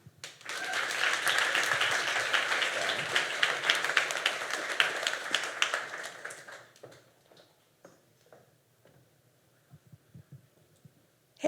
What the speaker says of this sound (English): Everyone please give a huge round of applause for our next speaker, Darlene.